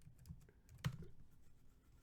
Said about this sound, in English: Now y'all can see me typing.